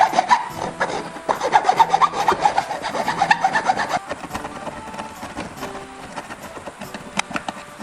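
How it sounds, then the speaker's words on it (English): A hacksaw cuts off the excess ends of wooden wedges set in a knife handle, making close, rhythmic rasping strokes that start quick and strong, then turn slower and softer. "you can cut off any excess part of your wedges with a hacksaw"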